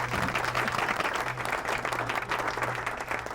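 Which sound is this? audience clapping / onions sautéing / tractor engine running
audience clapping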